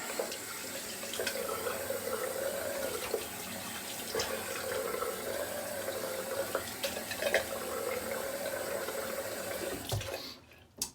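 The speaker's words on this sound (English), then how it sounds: "I'm going to do another rinse here." Water runs steadily from a bathroom tap for rinsing during a shave, a continuous splashing flow close by that cuts off abruptly just before the end.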